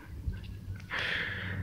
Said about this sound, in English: Blowing his nose.